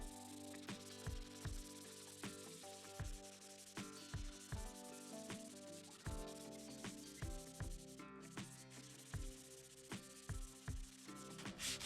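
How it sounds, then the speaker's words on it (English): Plastic spoiler off a 2003 Ford Mustang being scuffed by hand with 180 grit sandpaper, a quiet close series of rhythmic back-and-forth rasping strokes with no talking. "All right, so you just gonna hit this with 180 grit."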